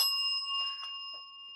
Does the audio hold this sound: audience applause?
no